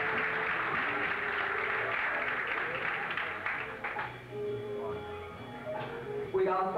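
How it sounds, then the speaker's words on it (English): An audience in a hotel ballroom at a fashion show applauds the musicians of a jazz trio, a steady wash of clapping from many hands that thins out toward the end as a voice speaks. "we'd like to give a special round of applause for our musicians"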